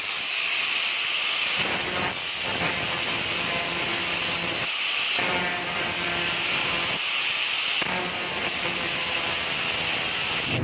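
A broken steel drill bit is ground on a grinder to sharpen it, giving a continuous loud harsh hiss and whine that stays steady throughout, with a few brief dips where contact eases off.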